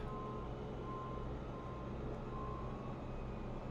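At a construction site for the Las Vegas A's stadium, a water truck's reversing alarm beeps faintly and intermittently in the distance over a constant low rumble of engines and site machinery.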